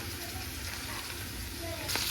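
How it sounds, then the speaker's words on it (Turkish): Chopped morel mushrooms fry with onions in a pan, giving a soft steady sizzle close by with faint stirring throughout. "Şimdi bunu soğanla birlikte kavuracağım."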